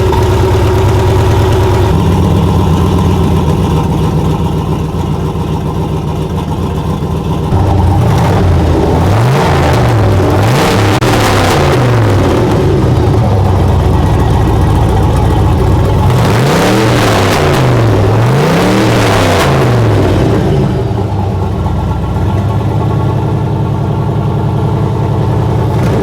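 A turbocharged car engine, an OBS being readied, idles loudly up close with a steady drone, then revs twice in sweeping rises and falls, each burst climbing and dropping back to idle.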